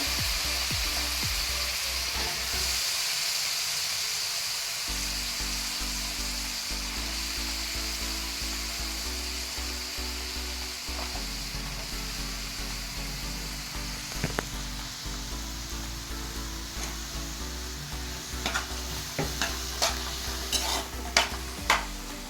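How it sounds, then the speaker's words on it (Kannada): Tempering for vegetable saagu sizzles and fries steadily in a pan while being stirred, with scraping strokes and a few sharp clinks toward the end; no talking. "ಇಲ್ಲಿ ಒಗ್ಗರಣೆಲ್ಲ ಬೇಯಿಸ್ಕೊಳ್ತಾ ಇದ್ದೀನಿ."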